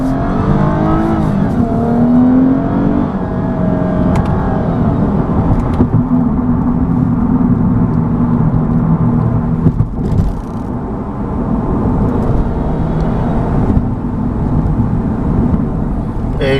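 A 2014 Lexus IS350 F Sport in Sport Plus mode pulls hard, its engine climbing through the revs in a loud, sustained drone heard from inside the car, with brief shifts and road noise along the way.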